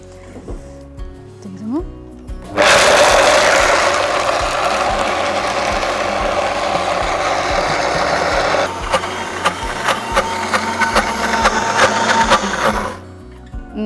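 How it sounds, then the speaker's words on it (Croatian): A Vitamix blender at full speed, setting 10, making hazelnut butter: a loud, steady motor roar starts abruptly, turns choppier with rattling knocks as the thick paste churns, then cuts off near the end. "Vitamix dignuli skroz na najjače, na 10 i uz pomoć ovog štapa."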